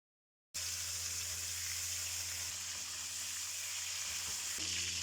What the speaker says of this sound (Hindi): चिकन को फ्राई होते हुए ये देखें